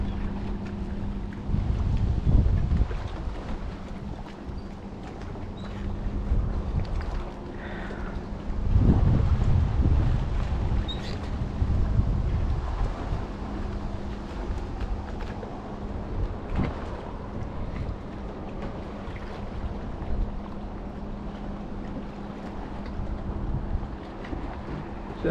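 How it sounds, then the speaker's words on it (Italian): Strong wind gusting along the bank of the Po river, a steady low roar with surges that swell and ease, heard alone without talk. "C'è un bel vento, si balla qui sul Po."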